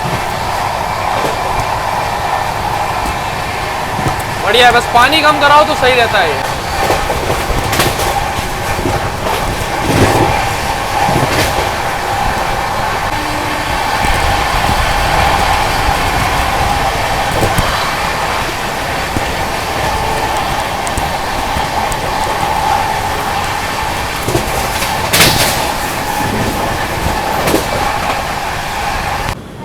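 A Rajdhani Express passenger train from Delhi to Mumbai rumbles steadily along the rails with faint clacking, heard from inside a carriage near Agra, while a person briefly talks nearby.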